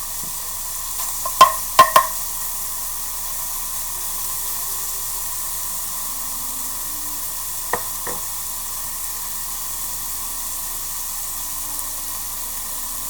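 Bacon lardons fry in a pan, a soft steady sizzling hiss under a constant background drone, broken by a few sharp clinks of a utensil against the pan near the start and again midway.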